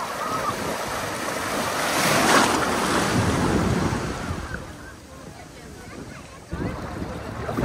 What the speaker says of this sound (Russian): Вы видели, как окатило водой?